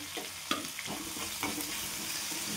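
Tomato, potato and brinjal sautéing in a pan with garlic and cumin for a potato-brinjal vegetable dish, giving a soft, quiet sizzle broken by a few light stirring scrapes.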